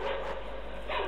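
Dog barking in the horror game Layers of Fear, a hound giving a few muffled barks and yips over a heavy, droning ambient background.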